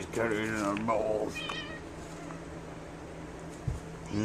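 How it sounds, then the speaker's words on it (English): Cats meowing close by, a couple of drawn-out mews at the start followed by quieter background hum, with a person speaking softly at moments. "Look at these kitties in their bowls."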